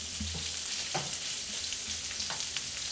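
Sausage fries in a pan on medium heat, a soft, even sizzle with faint crackles and pops throughout.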